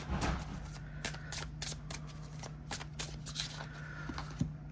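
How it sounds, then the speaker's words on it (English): Oracle cards being shuffled overhand, a quiet run of repeated soft riffling flicks in an uneven rhythm, with a steady low hum in the background. "Let's see how it shuffles."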